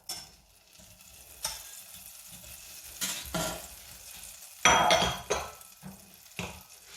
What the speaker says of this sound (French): je vais faire fondre 80 g de beurre